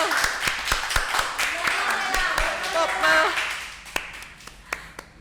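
Studio audience clapping during a Thai reality competition show, scattered hand claps with a brief burst of applause that thins to a few isolated claps, while someone talks over it.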